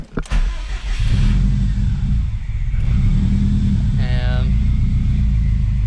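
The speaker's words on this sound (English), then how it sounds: "get in, turn the car back on" A Subaru WRX engine cranks and turns over, then settles into a steady, loud idle rumble up close; a brief chime sounds partway through.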